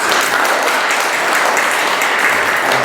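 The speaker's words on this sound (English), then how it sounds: "Let's give a round of applause for Mr." Steady audience applause at a community talk on small Black businesses and gentrification in DC, a dense, even wash of clapping with no voices standing out.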